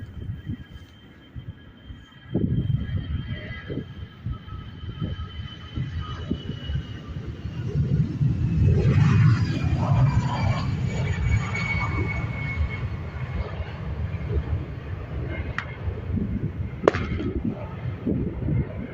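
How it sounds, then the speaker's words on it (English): An Aer Lingus Airbus A320 takes off at Dublin Airport. A distant jet roar swells over several seconds, then stays as a broad, rumbling noise. "EI586 of this Airbus A320 with the old Aer Lingus livery heading over to Malaga"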